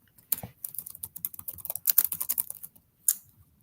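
Rapid, irregular clicks of typing on a computer keyboard, close and fairly quiet, in quick bursts with a short pause before a final few keystrokes.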